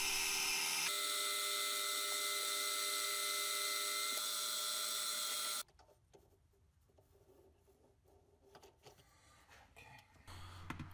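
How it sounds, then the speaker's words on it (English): High, steady whine of a Dremel rotary tool grinding a metal ring, loud and continuous for about five seconds, then cutting off to quieter scraping and handling noises. "The rest I'll take off with a Dremel tool."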